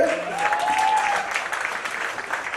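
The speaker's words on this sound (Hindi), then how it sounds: "तो एक बार जोरदार तालियां बजाएंगे।" Applause from the audience at the launch press conference for the Dance India Dance Season 5 judges, a steady broadband wash of clapping that runs through the whole clip, with a short musical tone near the start.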